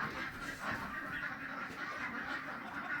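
Ducks quack on a snowy farm, a busy continuous stream of honking and quacking calls from several birds, moderately loud and near.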